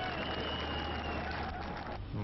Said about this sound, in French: Les applaudissements se mêlent au bruit des réacteurs